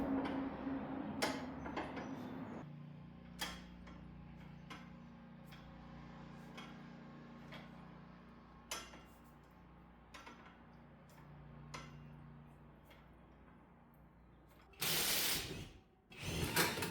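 A ratchet wrench with a 21 mm socket works bolts loose on a Honda Goldwing engine during an engine swap, giving faint, scattered ticking clicks and short ratcheting bursts in a quiet workshop, with a louder clatter near the end.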